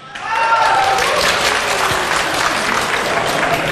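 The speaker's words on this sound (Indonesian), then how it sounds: "Kita berikan tepuk tangan." A large audience at an Indonesian presidential debate breaks into loud, sustained applause, dense clapping that rises quickly and holds steady, with a voice briefly audible beneath it.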